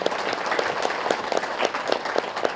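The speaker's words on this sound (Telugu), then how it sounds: "గట్టి క్లాప్ చేసుకుందాము" An audience at a PDMY 2024 spiritual gathering claps hard and steadily, a dense, loud, continuous patter of many hands with no voices over it.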